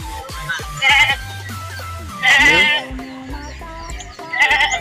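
Goats bleat repeatedly at a goat market, several loud close calls spaced apart over a steady outdoor background.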